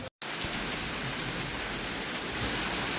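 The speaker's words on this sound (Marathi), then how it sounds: "पाऊस खूप वाढलाय" Heavy rain pours steadily as a dense, continuous hiss, briefly cut to silence near the start, with no voices.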